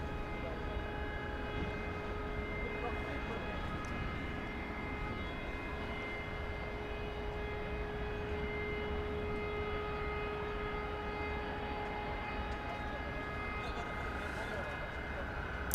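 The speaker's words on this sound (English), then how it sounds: "Here is the American flight to San Francisco, flight 2320, an Airbus A321 now. It's poised for takeoff." Airbus A321 airliner poised for takeoff at Dallas-Fort Worth airport, a distant steady engine whine with sustained tonal hum, faint and unbroken throughout.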